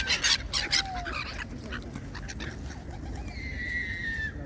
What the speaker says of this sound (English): The pigeons are here.